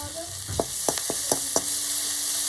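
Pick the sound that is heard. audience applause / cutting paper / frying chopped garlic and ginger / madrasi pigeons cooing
frying chopped garlic and ginger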